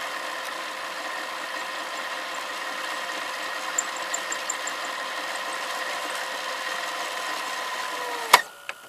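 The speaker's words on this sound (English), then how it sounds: "So winding faster because the tape's near the beginning." A Philips Magnavox VRA670 VCR fast-winds videotape near the start of the reel, giving a steady whirring motor hum with faint ticks, then a sharp mechanical click near the end.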